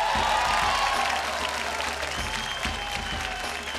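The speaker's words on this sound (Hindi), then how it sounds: "जोरदार ताली से स्वागत" An audience claps loudly and steadily to welcome a contestant onto the stage of the Sur Sangram 2 Bhojpuri singing competition show, with a dense, sustained wash of applause that holds for several seconds.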